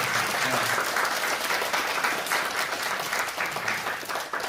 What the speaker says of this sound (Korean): 우리 한번 경배하는 마음으로 박수 한번 쳐주시겠습니다